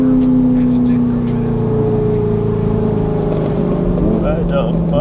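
A Chevrolet C8 Corvette Z06 cruising late at night in Miami, its engine a loud, steady close-up drone that swells and climbs in pitch near the end.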